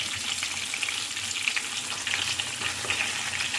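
Rava-coated sardines shallow-frying in hot oil in a pan, a loud, dense, continuous crackling sizzle close up, steady throughout with small popping bursts and no voices.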